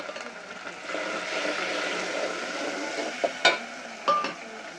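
Browned onion and tomato fry in a pan with a soft, steady sizzle as they are stirred, followed by a few sharp clinks of a utensil against the pan near the end.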